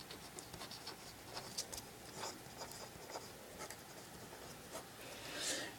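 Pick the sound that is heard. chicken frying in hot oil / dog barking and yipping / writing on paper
writing on paper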